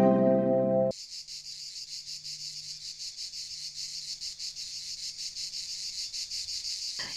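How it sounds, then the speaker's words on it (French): Cicadas sing in a Tuscan-style garden in the Dordogne, a loud, close, pulsing buzz that starts abruptly after a brief moment of other sound and continues steadily to the end. "même les cigales."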